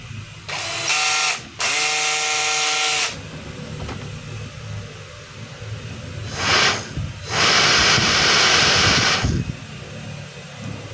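DeWalt DCE100 cordless blower with its fan fitted, switched on in loud whirring bursts of a few seconds each, separated by quieter pauses of handling noise.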